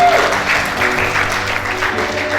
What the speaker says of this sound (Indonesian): sambil kita memberikan tepuk tangan yang meriah untuk kebenaran firman Tuhan